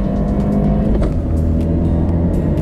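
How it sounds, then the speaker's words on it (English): A tuned Fiat 124 Spider Abarth accelerates at about 75 mph and shifts gear, its engine a loud, steady, close drone with a brief dip at the shift before it keeps climbing. "Let's see what happens when I do that same shift in the same spot at 75 miles an hour."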